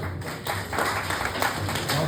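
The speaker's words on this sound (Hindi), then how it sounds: "जोरदार तालियां बजती रहें" Lively audience clapping at a retirement function, a dense continuous patter of hands filling the room, fairly close and loud.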